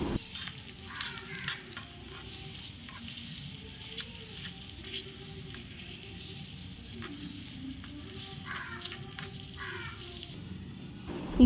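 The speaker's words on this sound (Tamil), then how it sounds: "இப்போ நம்ம இதை நல்லா மிக்ஸ் பண்ணிக்கலாம்" Food stirred in a hot pan for Madurai-style bun parotta with chicken gravy: a steady, even sizzle of frying runs throughout, with faint scraping strokes of a utensil mixing underneath, close and continuous.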